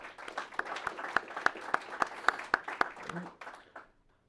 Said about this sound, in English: Please give a round of applause to VOA and the important work they do.